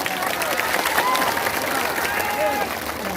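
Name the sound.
crowd applauding at political rally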